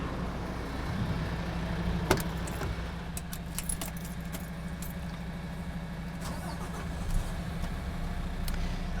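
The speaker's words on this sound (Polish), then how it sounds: "teraz będziemy uruchamiać ten drugi ciągnik" A tractor engine started with jumper cables catches and runs with a steady, close mechanical drone, with a few light metallic clinks over the continuous hum, and no talk.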